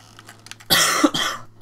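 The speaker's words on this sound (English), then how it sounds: "I've still got a bit of a cough" A person coughs loudly and close by, a harsh burst followed by a second cough, after a few faint soft sounds, with a low background hum.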